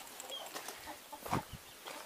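A chicken clucks in a rural yard, with short scattered clucks and rustling heard nearby at moderate volume, with no talking.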